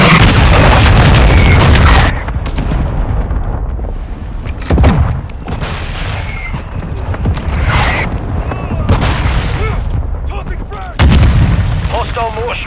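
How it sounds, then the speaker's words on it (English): Mortar strike explosions in Call of Duty: Modern Warfare II, heavy booms and rumbling blasts landing repeatedly, loud and close, with scattered gunfire and voices talking over the battle. "Hostile mortar strike near your position."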